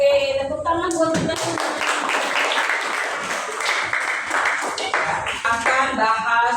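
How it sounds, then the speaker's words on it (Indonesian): Students in a classroom clap together during an Islamic religious education lesson, a steady burst of hand clapping lasting several seconds, mixed with children's voices. "Tepuk tangan buat kita."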